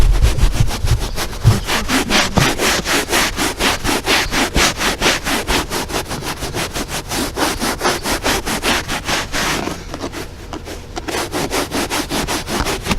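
Steady back-and-forth scrubbing on the surface of a neglected Jeep Grand Cherokee during detailing, a close, rhythmic rasping stroke repeated roughly every quarter second at medium pressure, with a brief softer patch near the end.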